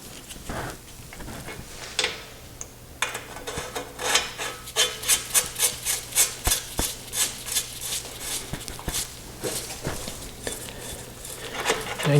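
A record player spindle part is threaded by hand into the turntable frame, giving a run of short metallic rasping scrapes in a quick, even rhythm, close and fairly quiet.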